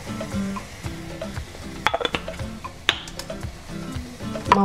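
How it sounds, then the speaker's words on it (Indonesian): Spices with cinnamon and a little pepper sautéing in a pan for pineapple pajeri, with a soft sizzle and scattered clicks and scrapes of stirring, moderately close and without talk. "Mau kita tumis sampai bumbunya matang ya teman-teman."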